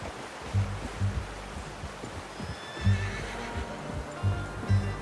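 A horse in Red Dead Redemption 2 neighs and whinnies several times in short bursts, fairly close, over a steady wash of ambient background noise with no talking.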